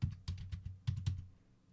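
Several crisp keystrokes on a computer keyboard as a command is typed and enter is pressed, a short uneven burst of clicks close up with no talking.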